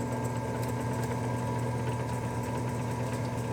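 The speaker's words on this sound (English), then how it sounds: "Then I could finally start drilling." A power drill bores steadily into a metal pipe held in a bushing for a homemade Nerf gun build, a continuous droning whine that runs loud and unbroken, with no talking.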